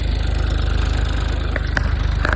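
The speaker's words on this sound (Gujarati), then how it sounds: "આપણે ટ્રેક્ટર હાકી લીધું છે કાકાનું" A tractor engine chugs at a steady, rapid thumping rhythm while ploughing a field, loud and close, with a few faint clicks and knocks on top.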